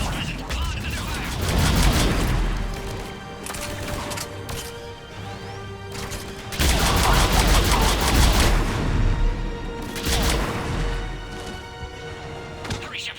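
Heavy gunfire assaulting a pod in Mass Effect 3: dense bursts of rapid shots and crashing impacts in waves, loud and close, with a voice speaking over it.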